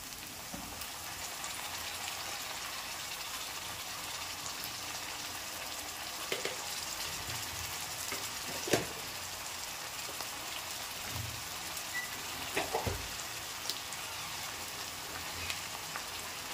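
Ginger paste sizzling with browned onions in a kadai over a low gas flame: a steady, close hiss of frying with occasional soft pops and crackles, no voices.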